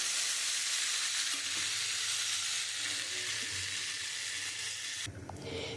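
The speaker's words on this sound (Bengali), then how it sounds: "এবার আমি পরিমাণ মতো জল দিয়ে দেবো" Water is poured into papaya and potato that were sautéed in a pan for a rohu fish curry. A loud, even sizzle is cut by an abrupt bubbling shift near the end.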